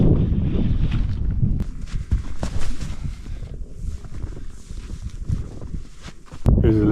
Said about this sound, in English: This wind is getting a little crazy.